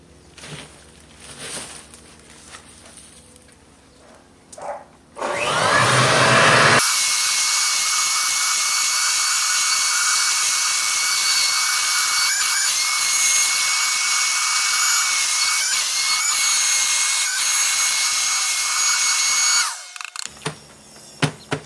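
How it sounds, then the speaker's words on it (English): A garden mulcher shreds yard material fed in small bits through its cone, a loud sustained high whine that kicks in after some lower rustling and runs evenly for about fifteen seconds before cutting off. "Mulcher is working, but I just have to take little bits at a time because it easily gets clogged in that cone."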